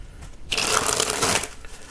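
A brand-new deck of Theory11 Artisan playing cards is shuffled in one loud, dense riffle lasting about a second. The cards buzz sharply and up close, with no talking.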